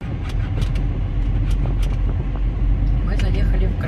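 A father's car drives along a busy highway, its engine and road rumble filling the cabin steadily throughout, with people talking inside.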